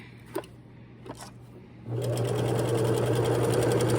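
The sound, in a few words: sewing machine sewing a gather stitch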